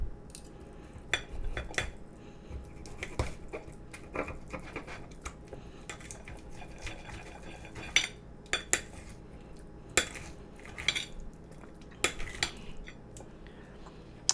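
Knife and fork cutting open an air-fried steak on a plate, with scattered sharp clinks and scrapes of metal on the dish at an irregular pace, close up.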